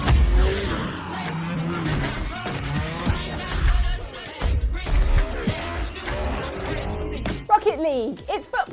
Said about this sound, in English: In Rocket League, 2 teams of cars do battle on a pitch bordered by ramps